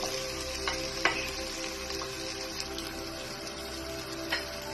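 Tomatoes fry in a pan for a Kerala fish molee, giving a steady soft sizzle and bubbling, with a few sharp clicks of a spoon against the pan and no talk.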